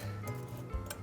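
Chopped onions scraped off a cutting board into a pan, giving a brief burst of clinks and soft scraping up close, with a small thud as they land.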